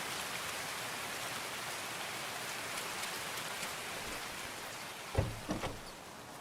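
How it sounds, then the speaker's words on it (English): Steady rain in the shooter game Escape From Tarkov, a dense even hiss of drops falling throughout, with a few soft thuds near the end. "Oh, thank God the rain's gone."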